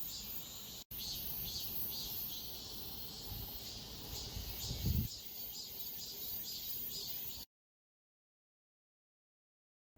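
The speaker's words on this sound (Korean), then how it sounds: "제가 매미 소리를 녹음한 영상을 보시면 중간에 이런 소리가 들어간 부분이 있습니다" Cicadas buzz steadily throughout, a dense continuous drone with a pulsing high band, interrupted by a sharp tap near the start and a thump of phone handling midway, then the recording cuts off.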